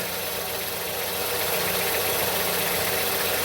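A Ford Escape engine idles at close range, a continuous low rumble with a faint mechanical knock running underneath, no voices present.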